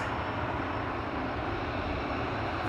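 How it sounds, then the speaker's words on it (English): A KLM Boeing 737 jet airliner taxis at Amsterdam Schiphol, a steady broadband jet roar that stays constant and moderately loud for the whole short stretch. "We have a KLM 737 to Berlin coming this way."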